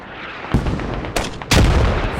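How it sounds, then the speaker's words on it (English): AK rifle gunfire in the video game Squad: two sharp, loud shots crack out over a steady rumbling game backdrop, the second heavier and followed by sustained noise, no talking. "Full auto AK versus burst."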